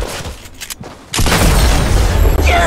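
Gunfire and blasts in a Fortnite match, beginning with a sharp boom about halfway through and then running as a dense, loud, sustained barrage to the end, with no talk over it.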